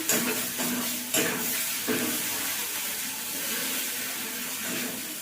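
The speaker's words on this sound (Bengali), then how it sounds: "মাছ ভাজার পরে যে তেলটা ছিল ওই তেলেই আমি ওই সাদা সর্ষে, কালো সর্ষে আর একটা শুকনো লঙ্কা ছিঁড়ে ফোড়ন দিয়ে দিয়েছি।" Mustard oil left over from frying fish sizzles steadily with white and black mustard seeds and a torn dry chilli, a close, bright hiss broken by a few soft stirring knocks.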